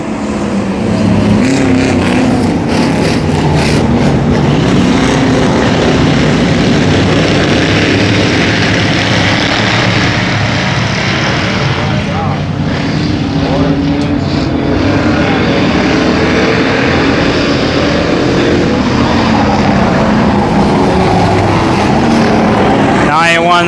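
Race cars roaring around the Brownstown Speedway dirt oval on a Saturday night, a loud continuous engine drone from a restarted field with an announcer talking over it.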